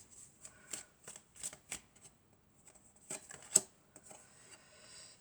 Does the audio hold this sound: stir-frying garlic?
no